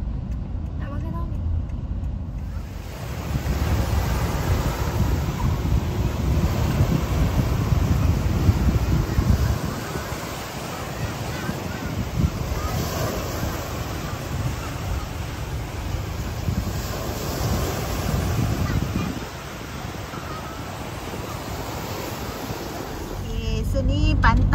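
Waves and steady sea breeze on a beach at Pantai Budi near Pattani, Thailand, a continuous loud rushing wash with wind buffeting the microphone, and voices talking over it.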